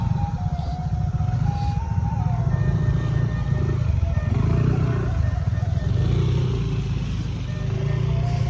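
Motorcycle engine running continuously on a rural road trip in West Sumatra, a loud steady rumble that stays close throughout with wind and road noise mixed in.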